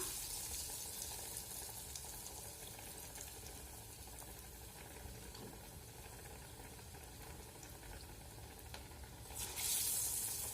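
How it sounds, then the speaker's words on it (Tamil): Chana vada patties frying in hot oil give a steady low crackling sizzle throughout, close and even, with a brighter hiss swelling near the end. "இப்போ நம்ம எண்ணெயில் ஃப்ரை பண்ணிடலாம்"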